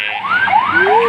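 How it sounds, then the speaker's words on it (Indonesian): Ambulance siren wailing close by on the road, rising sweeps repeating quickly and loudly over traffic noise for about a second. "Wih, ambulan nih."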